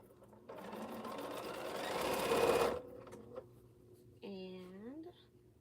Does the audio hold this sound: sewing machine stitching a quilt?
yes